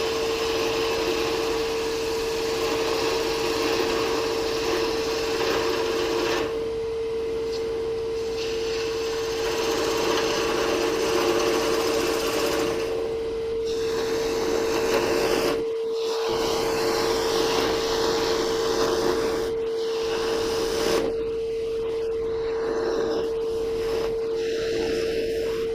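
A woodturning lathe hums steadily while a tool cuts a wooden Christmas tree taper, continuous close whirring and rasping with a constant motor whine throughout.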